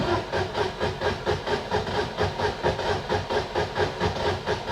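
An engine's fuel pump runs as the engine is started, making a steady, pulsing mechanical whir with a fast regular rhythm, loud and close, with no voices.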